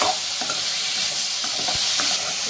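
Perandai (veldt grape) sautéing in a pan for chutney, a loud dense continuous sizzle close by with faint stirring scrapes, no talking.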